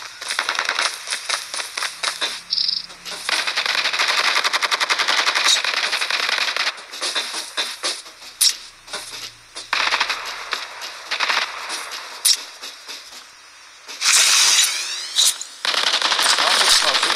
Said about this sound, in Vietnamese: Có tiếng súng rồi các bạn ạ.